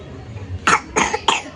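Three sharp coughs in quick succession, close and fairly loud, with a low murmur before them.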